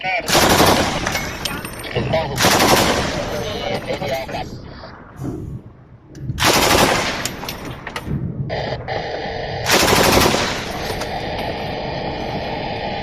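Heavy artillery fire in a video game: loud, booming blasts arrive in separate bursts every few seconds, with a mechanical rumble continuing between them.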